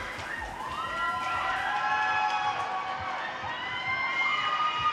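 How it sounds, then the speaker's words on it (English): Arena crowd at a roller derby bout cheering and shouting in a sustained swell of noise, with skate rumble beneath the roar. "And the crowd goes wild."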